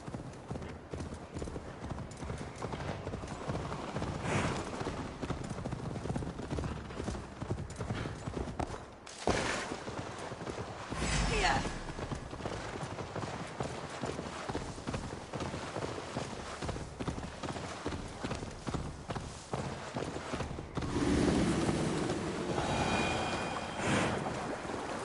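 Steady clip-clop of horse hooves at a gallop runs throughout, with a brief horse whinny and a noisy, busy background, in the video game Assassin's Creed Valhalla.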